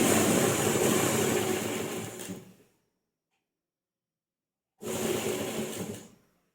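A sewing machine stitching the pocket of a ladies' pant: two loud, close runs of steady whirring motor noise, the first about two and a half seconds long, then silence, then a shorter burst that winds down.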